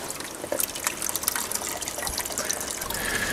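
Water from a mineral spring in Vermont flows and splashes steadily, a close, continuous gush with no voices over it.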